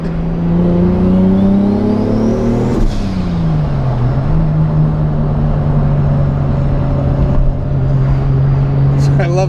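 A Toyota Supra on the road gives a loud continuous engine drone with a steady exhaust hum and a brief pitch swoop as the revs shift, close and dominant throughout.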